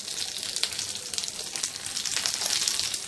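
Curry leaves, green chili pieces and asafoetida frying in hot oil for raw mango pulihora give a loud, continuous crackling sizzle with close, bright spatter bursts.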